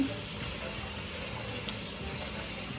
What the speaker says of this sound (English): You just want to rinse it.